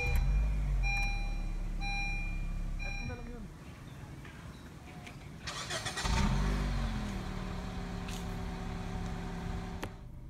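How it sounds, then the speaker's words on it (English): 2017 Honda Jazz VX 1.5 CVT started with the push button, chimes and beeps ringing before the engine cranks and settles into a low idle, with someone talking over it. "put your foot on the brake and push the button to start"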